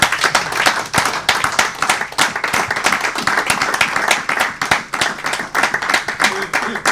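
Worshippers in a church applaud the Lord with brisk, continuous rhythmic clapping, loud and full, while voices call out over the hands.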